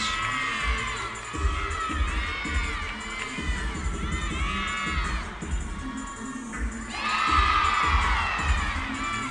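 Crowd cheering and shouting at a college gymnastics meet, Kent State versus Eastern Michigan, during a floor routine, with bright children's and fans' voices swelling and whooping over a busy arena din, rising louder near the end.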